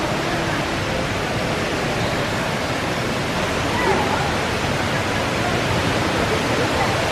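Steady, loud rush of falling water, a dense broadband roar that stays constant throughout, from the large indoor waterfall at the Jewel, Changi Airport, Singapore, echoing in the enclosed space.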